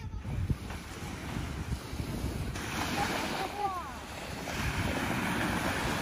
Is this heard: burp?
no